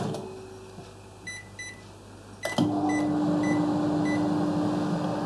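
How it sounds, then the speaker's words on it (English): A microwave oven heats chicken soup: a few soft beeps as it is set, then a click as it starts, followed by a steady close hum with its low motor drone running on alone. "we're going to heat it up in the microwave for about 5 minutes"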